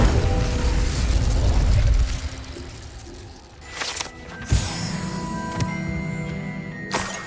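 A fire spell bursts out in a Hogwarts Legacy game scene, a short whooshing pop with crackling flame, followed by several sharp magical bursts and tones over a cold, quiet ambience.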